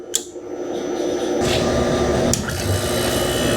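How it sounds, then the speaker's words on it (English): Fan of a yacht's air conditioning unit, recently submerged, spins up, settling into a steady close whir with a faint hum beneath, a brief click near the middle. "There goes the fan."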